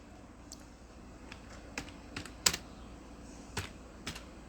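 Computer keyboard typing as a blog post title is entered in Blogger, with scattered quiet key clicks in an uneven rhythm over a soft room hiss, no voice.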